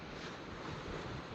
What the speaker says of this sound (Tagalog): Medyo mahangin-hangin na naman po